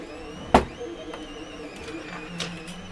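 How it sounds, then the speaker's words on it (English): 3D printers at work during a Recreator 3D build, a low mechanical whir with a sharp knock near the start and soft stepping tones, close and moderate, no talk. "the sounds that we're all used to being 3D printers printing away on this side"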